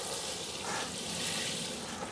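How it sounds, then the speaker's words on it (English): Potato plants being watered inside a polytunnel, a steady, close hiss of water spraying and splashing onto the plants and soil that lasts the whole short stretch. "the potatoes are going to stay in the polytunnel, and I've just given them a water"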